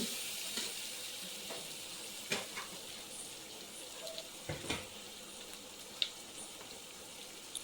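Quiet, steady sizzling of spinach being sautéed in a hot pan, with occasional scrapes and clicks of stirring.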